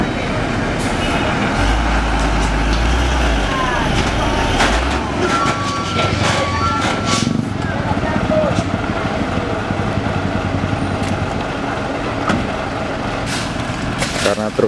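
A Fuso truck labors under a heavy load, its engine grinding and droning while rattles and clunks from the bouncing body come and go, with people talking over it throughout.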